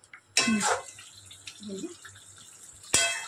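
Water poured into a pan of potol dorma on the stove, quick splashing bursts at the start and end, with a voice speaking quietly in between.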